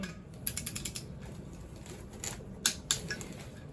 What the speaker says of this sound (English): Again, torque them in a crisscross pattern.